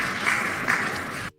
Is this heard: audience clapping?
yes